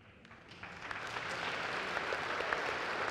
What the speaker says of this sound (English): That's what they're clapping for.